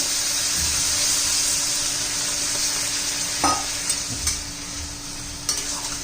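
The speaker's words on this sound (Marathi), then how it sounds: "आता त्यात पाणी घालू" Water added to a frying ridge gourd (dhemsa) vegetable curry with soaked chana dal, a continuous loud hissing sizzle close by, with a few soft clinks of a utensil near the end.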